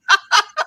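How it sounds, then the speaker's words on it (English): A bird gives four quick, loud calls in a row, close by and with nothing else heard. "And there was a bird tweeting."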